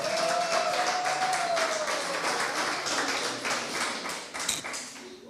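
A church congregation applauds the Lord during a sermon on eternal life, a broad, sustained patter of many hands clapping that fades slightly toward the end, with a faint tone lingering underneath at the start.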